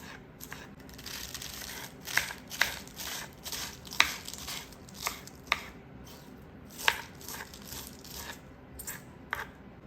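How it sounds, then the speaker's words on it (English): A knife slicing a stack of lettuce on a cutting board for tacos, a run of crisp, irregular chopping cuts over a quiet background, close and fairly soft, with no talking. "Sliced lettuce for our tacos."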